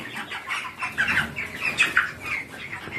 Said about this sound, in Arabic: ادي الفراخ زي ما انتوا شايفين